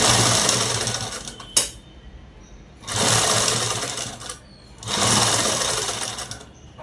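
A sewing machine stitches a long frock in three rapid, buzzing runs, each lasting about a second or more, separated by brief quiet pauses, close and fairly loud.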